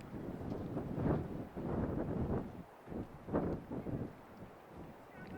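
Relentless wind buffets the microphone on an outdoor rock climbing route, rising and falling in deep, rumbling gusts that swell and fade close to the mic.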